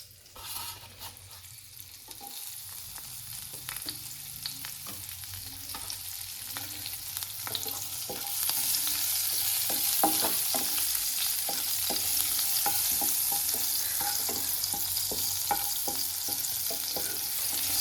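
Green chillies dropped into hot oil already holding asafoetida, a steady sizzle that grows louder and fuller partway through, with occasional stirring clicks and no talking.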